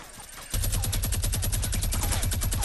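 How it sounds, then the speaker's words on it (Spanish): Minigun fire in Fortnite, a sustained rapid burst of gunshots that starts abruptly after a brief quiet moment and continues as loud, evenly spaced rattling reports to the end. "Tengo minigun, le disparo en la base."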